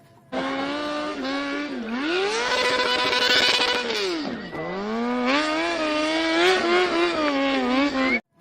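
A toy racing motorcycle plays its engine sound effect, a loud, close, buzzy revving that rises and falls in pitch over several seconds before cutting off abruptly.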